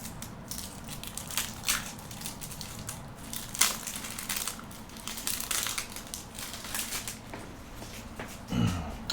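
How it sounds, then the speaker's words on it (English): Crinkly plastic wrappers on 1994 Flair Marvel card packs being opened with scissors and torn apart, close-up crackling, crumpling bursts and sharp snips coming in irregular clusters over several seconds with no talking. "Gotta be careful opening the wrappers."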